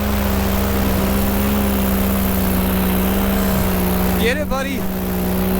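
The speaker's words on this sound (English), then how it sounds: "We got a reckless dirt bikeist. Oh, it's a little pit bike." A small pit bike engine drones steadily close by with a constant low tone, while a voice calls out briefly over it near the end.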